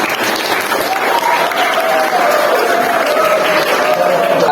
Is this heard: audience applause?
yes